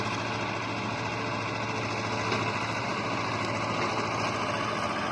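A tractor engine idles nearby on a farm, holding a steady, low, rumbling drone with a faint mechanical rattle for the whole stretch, with no talking.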